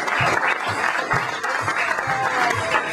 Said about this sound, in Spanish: Un fuerte aplauso para mi amigo, el señor Pablo Aravito.